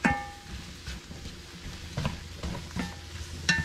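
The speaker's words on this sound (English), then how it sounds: "Stir that around for some flavor." Celery tossed and stirred in a soup pan over heat, a faint soft sizzle with scattered scraping clicks from the spoon, close and quiet with no voices.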